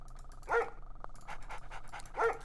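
Dogs barking in the Red Alert strategy game, with two loud, close barks about two seconds apart and softer yips and panting between them, with no talk.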